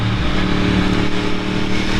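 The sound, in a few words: naked sport motorcycle engine revving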